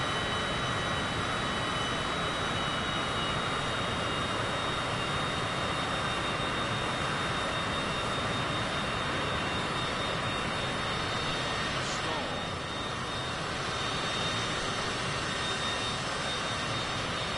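A mid-sized airplane's engine drones steadily and loudly throughout in Microsoft Flight Simulator 2024, a constant broadband roar with a faint high whine, without letup or change.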